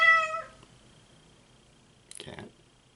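A cat lets out a short, clear meow at the start, followed by quiet and then a brief burst of rustling or clicking.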